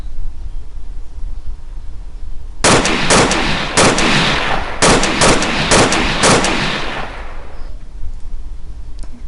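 Loud, close bursts of automatic gunfire from the military shooter game Arma 3, played on an Exile server, rip out in rapid volleys over about five seconds, then fade into quiet background noise.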